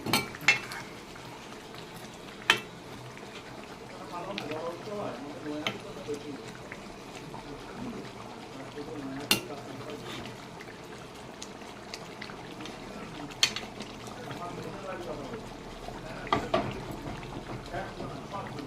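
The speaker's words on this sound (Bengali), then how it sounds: "আমার জলটা কিন্তু ফুটে উঠেছে, এখন আমি দিয়ে দেবো মাছগুলো" Fish simmering in a pot of boiling water, a low bubbling churn with occasional sharp clinks and splashes, close by, while someone talks over it in Bengali.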